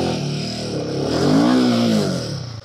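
A Royal Enfield Himalayan 450 motorcycle stuck in a pit on an off-road course, its engine revving hard and straining in a steady, loud drone that swells and holds before easing off, close by with no talking.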